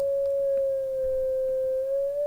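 A steady FL Studio 3xOsc synthesizer tone holds a single pure pitch, dipping and drifting slightly as it is fine-tuned, sounding clean and alone.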